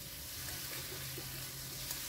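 Water splashed into a pan of puti fish curry being fried with spices, giving a steady, soft sizzle that holds low and even throughout, with no voices.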